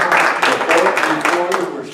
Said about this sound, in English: We ought to give you a round of applause.